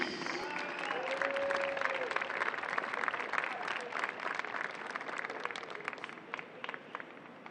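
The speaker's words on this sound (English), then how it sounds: "Let's have one more round of applause for our Golden Boot winner" Audience applause for the Golden Boot winner at the USL Academy League Final between Indy Eleven and Queensboro FC, a steady, dense clapping that fills the whole stretch with faint voices mixed in.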